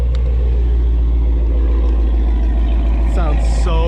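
A warm Ford Mustang Shelby GT350 engine in sport mode idles with a deep, steady rumble, then revs sharply twice near the end, rising in pitch each time.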